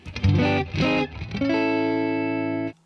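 Electric guitar through a Guitar Slinger RB1011 MKII booster into a Deluxe Reverb amp, playing two driven, effected strums followed by a long sustained chord ringing out loud and alone for over a second before cutting off.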